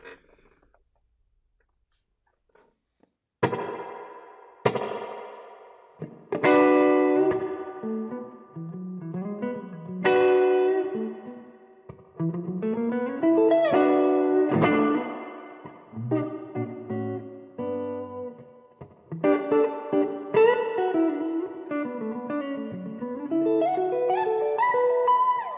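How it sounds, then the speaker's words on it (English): Guitar run through a Boss RV-6 pedal's spring reverb mode, played as a series of plucked notes and chords after a short silence, each hit ringing out with a washy tail. "So here we go with the Spring reverb sound."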